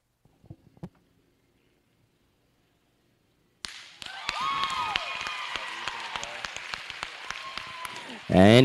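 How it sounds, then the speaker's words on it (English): Applause breaks out at a livestock show after a few quiet thumps and a pause, then continues as a steady crowd clapping with scattered louder claps, swelling loudly at the very end. "Give them all a big round of applause."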